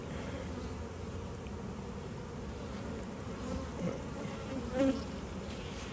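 Honey bees buzz throughout a hive inspection, a constant low drone with a few closer swells toward the end as individual bees pass near.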